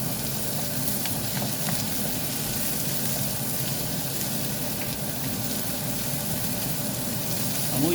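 Garlic and white onion frying in a pan give a steady, soft sizzle that holds evenly throughout, with faint stirring and no talking.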